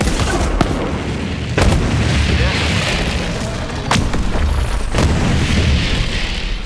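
A Protuberance gun firing in the video game Borderlands 3, heavy booming shots with long rumbling tails repeating every second or so, loud and close amid game noise, with someone talking over it.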